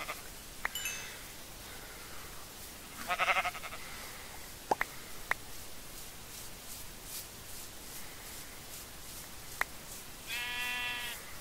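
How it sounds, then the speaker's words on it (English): Sheep in Minecraft bleating in a few short separate calls, with a couple of sharp clicks between them, over a quiet background. "Ooh, there's a sheep"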